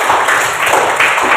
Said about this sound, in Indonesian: Sekali lagi kita tepuk tangan untuk kelompok 1.